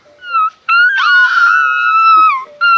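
A dog in a village whines in long, high, wavering cries, loud and close, in several separate bursts with short gaps and no clear barks.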